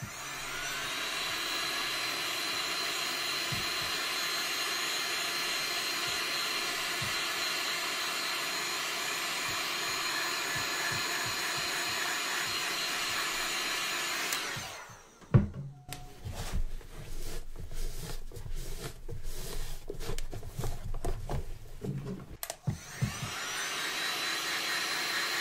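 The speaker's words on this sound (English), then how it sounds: "Just be careful when you're resting that heat gun on any surface" A heat gun blows hot air to melt wax polish off Magnanni monk strap shoes, a steady loud broadband roar for about fifteen seconds, then it cuts out, giving way to irregular handling clatter and rustling before the roar returns.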